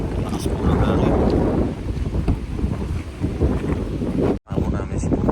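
Strong coastal wind at low tide roars and buffets the microphone steadily, with loud gusting rushes, a brief dropout near the end.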